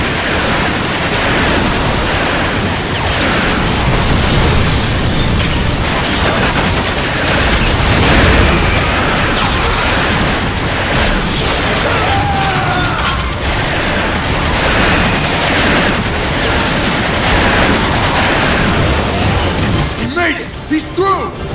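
Sustained gunfire and blasts in Transformers: Fall of Cybertron, a dense, loud barrage of rapid shots, mechanical clatter and booms running continuously, with voices shouting over the combat.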